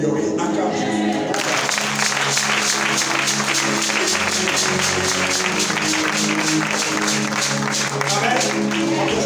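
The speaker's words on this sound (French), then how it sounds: "Acclame Jésus." A French-speaking church congregation claps for Jesus during a service, a loud, dense wash of steady applause from many hands with voices rising over it, continuing without a break to the end.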